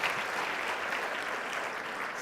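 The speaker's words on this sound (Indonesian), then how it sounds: "Beri tepuk tangan untuk Tuhan" Steady congregation applause at a church service, an even wash of many hands clapping together, moderately distant and continuous with no pauses.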